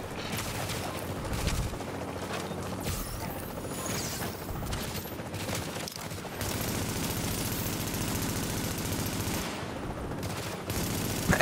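Rapid, dense bursts of gunfire from a heavy-kicking gun in the video game Tom Clancy's The Division crackle almost continuously and loudly, with brief dips between volleys and no speech.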